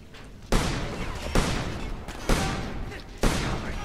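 Heavy gunfire in the video game Homefront: four loud, sharp bursts at roughly one-second intervals, each trailing into a dense, noisy wash of continuous shooting, close and intense.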